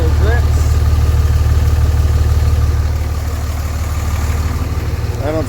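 A Cummins diesel dually pickup with a blown head gasket idles nearby, a loud low rumbling drone with a steady pulsing throb, while a person talks over it.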